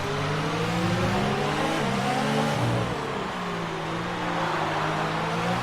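F1 cars race at the Mexican Grand Prix in F1 2019, one engine screaming close and steady at high revs, with pitch shifts as it changes gear and holds its speed.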